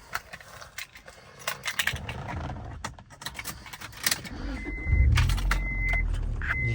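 A 1997 Acura CL starts up: a few light clicks and interior rustles, then the starter cranks and the engine catches into a steady low idle rumble close by.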